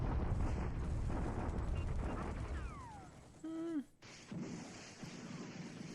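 Bombardment in the War in the Pacific wargame: a low rumbling barrage that fades out, followed by a sweeping whistle, a sharp mechanical burst and a hard cutoff, then a softer rumble returning.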